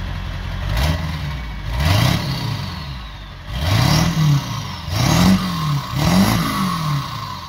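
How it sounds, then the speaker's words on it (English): A diesel truck engine revs repeatedly, rising and falling in bursts, with a faint turbo whistle swelling above each rev, close and loud. "It's just more engine sound. You can hear the turbo now though."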